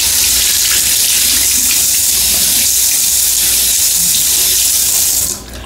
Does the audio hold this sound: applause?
no